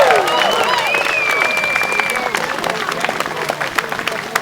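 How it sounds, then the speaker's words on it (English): A crowd claps and cheers at a political anniversary celebration for Jeremy Corbyn MP, with sustained applause and whoops carrying through, a voice calling out near the start. "Round of applause for Tosh McDonald."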